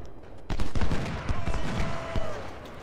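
Musket volleys crackle across a Civil War battlefield in Ultimate General: Civil War. Overlapping shots pop irregularly for a couple of seconds at moderate loudness, and a thin whistling tone sits under them.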